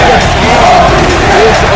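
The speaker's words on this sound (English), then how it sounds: "The crowd is going wild." Wrestling arena crowd roaring and cheering for Zack Sabre Jr's entrance on a Pic Fed show, a dense continuous wall of loud voices with shouts rising out of it.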